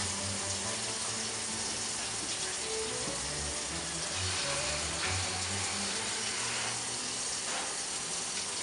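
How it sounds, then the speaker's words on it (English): Running tap water splashes steadily during a surgical hand and arm scrub with antimicrobial soap, with faint clicking and rubbing over a continuous, moderately loud wash. "Wash hands and arms thoroughly with antimicrobial soap to a point 2 inches above the elbow."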